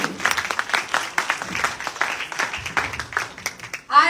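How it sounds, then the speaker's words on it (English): An audience at a pageant audition in Delhi claps for a contestant, the applause moderate and patchy with uneven bursts, then a voice begins at the very end. "Huge round of applause for Tarini."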